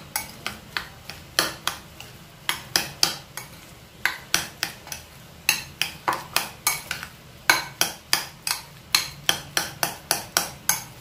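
A spoon clatters steadily against a bowl while ingredients for a vegetable sandwich filling are stirred together, giving a rhythmic run of sharp scraping clicks, close and clear, with no voices.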